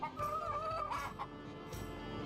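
A black rooster in the video game Yes, Your Grace clucks in a short burst of fowl calls, close and fairly faint, with a few clucks and a brief crow-like warble over light background noise.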